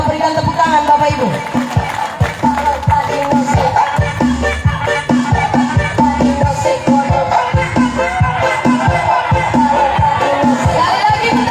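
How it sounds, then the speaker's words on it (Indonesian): An audience at an East Sumba campaign meeting for a regent candidate ticket claps in a steady rhythmic beat amid crowd noise and shouts, with a voice talking over the clapping throughout. "Mari sekali lagi kita berikan tepuk tangan Bapak Ibu."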